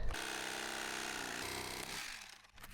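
An electric knife with two reciprocating blades cuts foam board for a camper van floor, a steady close buzzing drone that runs continuously and then tapers and wavers near the end.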